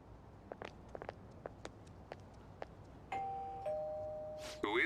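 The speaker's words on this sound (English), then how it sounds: "You ring the bell" Doorbell at Madarame's house in Persona 5 Royal: a few soft footstep-like taps, then a clear two-tone electronic chime rings close and bright, followed by another short tone.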